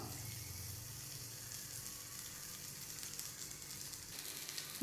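Corn cheese balls fry in a hot pan, producing a steady, faint hissing sizzle that continues evenly throughout without any talking.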